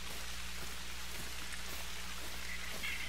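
Steady rain falling outdoors on a wooded hunting trail, a constant dense patter with scattered individual drops, moderately quiet and with no voices.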